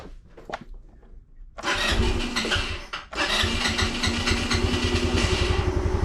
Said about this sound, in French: Donc démarrer, il démarre.